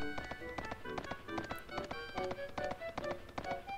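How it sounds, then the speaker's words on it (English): Horse hooves clip-clopping in the video game Suikoden III, a quick, regular galloping rhythm of light hoof taps over a faint musical background, moderately quiet. "Hey, I'm on a horse!"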